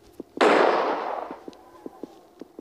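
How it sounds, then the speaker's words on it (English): A single sharp gunshot in the Granny mobile horror game, a loud close burst that decays over about a second, followed by soft, evenly spaced footstep-like taps. "Now we will shoot Granny down the stairs."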